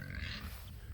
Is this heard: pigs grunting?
yes